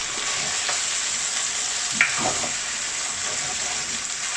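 Chunks of mutton for Rajasthani laal maas are stirred in a hot pan, giving a steady close sizzle and frying hiss with soft scraping of the spoon and a brief sharper clink partway through.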